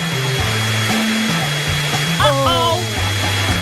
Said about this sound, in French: Mon sèche-cheveux super puissant va tout réparer.